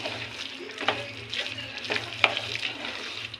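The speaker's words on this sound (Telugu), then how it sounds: "కలుపుతూ ఉండాలి, లేదంటే అడుగంటుతుంది." A thick jaggery mixture is stirred in a cooking pan, giving close, repeated scraping strokes over a soft bubbling sizzle.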